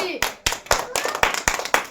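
A group claps for a child who won bottles of soybean oil. The claps come in a steady, even rhythm of about four per second, loud and close, with voices faintly underneath.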